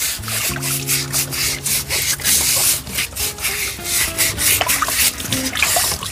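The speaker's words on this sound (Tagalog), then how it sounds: "huwag mong tigilan ka babrush hanggat hindi mamula" Feet being scrubbed with a brush, repeated close rough bristle strokes in an uneven rhythm, with faint tonal hums running underneath and no talking.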